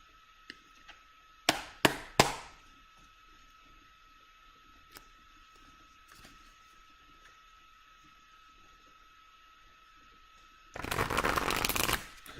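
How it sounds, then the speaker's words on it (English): A Grimalkin tarot card deck is shuffled, a few quick soft flicks near the start and a longer, denser riffle of the cards at the end, with a faint steady hum between. "I love how silent her deck shuffles"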